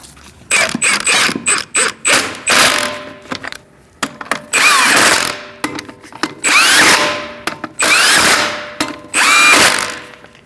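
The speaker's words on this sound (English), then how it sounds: "Using a 19mm socket, we're going to torque our wheels to 100 foot-pounds." Lug nuts on a 2006-2011 Chevrolet HHR 2.4L L4 wheel being tightened with a 19mm socket on a power tool, loud repeated whirring and rattling bursts separated by short pauses.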